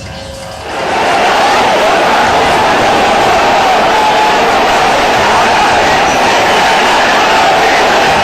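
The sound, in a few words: protest crowd marching and chanting slogans against citizenship law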